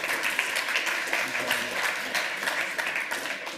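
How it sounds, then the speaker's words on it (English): A crowd of attendees applauds at a hacker conference lightning talks session, dense continuous clapping filling the room, loud and steady for several seconds with no talk over it. "Give yourselves a round of applause."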